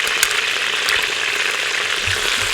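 Garlic sizzles as it is stirred into chicken thighs frying in an Instant Pot, giving a steady, close, even hiss with no talk.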